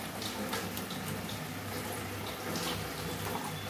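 Water pours into a cooking pot holding potatoes and poppy seed paste, a soft steady splashing stream heard close and fairly quiet, with no talking.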